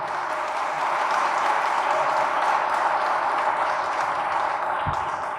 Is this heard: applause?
yes